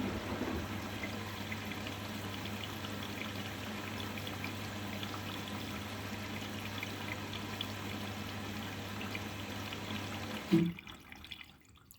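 Steady stream of water pouring into a washing machine during a white-laundry wash, with a continuous low hum under the flow for about ten seconds before it abruptly cuts off near the end.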